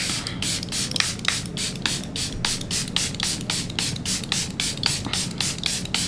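A Charlotte Tilbury setting spray mists onto a face in a quick series of short, crisp spritzes, about twenty evenly spaced bursts over steady low background noise, close to the microphone.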